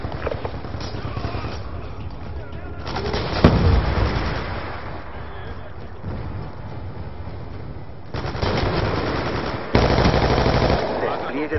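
Bursts of automatic gunfire and booming shots rattle through a noisy game soundscape, with heavier volleys coming and going over a continuous background rumble.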